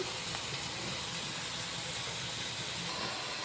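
Tamarind and chili powder mixture boiling in a pan, a steady broadband hiss and sizzle that stays even and close throughout, with no speech.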